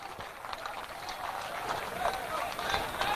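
A crowd at a Jan Suraaj party gathering in Madhubani, Bihar, claps to welcome a speaker: a steady, dense patter of hands that holds at an even level throughout, with voices faintly mixed in.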